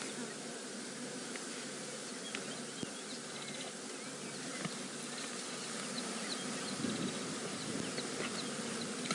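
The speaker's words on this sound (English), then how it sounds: "It's incredible the amount of flies that are inside this carcass." A swarm of flies buzzes over a freshly killed buffalo carcass on safari, a dense, continuous drone with individual insects whining past, steady and fairly close, with no speech.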